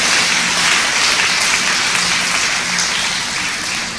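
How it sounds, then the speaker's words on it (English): An audience claps steadily through a live spiritual talk by Avdhoot Baba Shivanand Ji. The dense, crackling applause is close and sustained, tapering slightly toward the end, with no voices over it. "Yes, you can clap."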